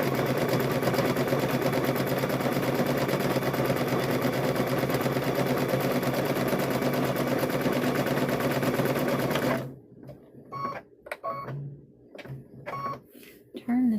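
A sewing machine runs in one long continuous burst while stitching an apron, a steady, loud mechanical whir that stops abruptly, followed by quieter handling noises and brief voices.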